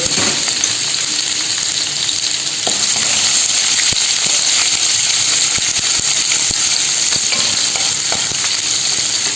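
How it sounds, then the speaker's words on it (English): Steady, loud sizzling of ginger frying in hot oil, a continuous crackling hiss with occasional small pops and stirring clicks, no voices. "You can hear the sizzle of the ginger."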